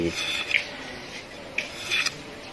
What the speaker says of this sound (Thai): ขูดตอกเหลาตอกนี่แหละคลิปนี้